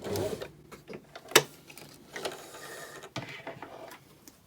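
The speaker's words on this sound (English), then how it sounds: "lift up the presser foot, and I'll reverse up the fold and back tack" A sewing machine back tacks at the end of a single point dart, reversing along the fold: short whirring bursts of stitching separated by clicks and a sharp mechanical clack, all close and fairly quiet.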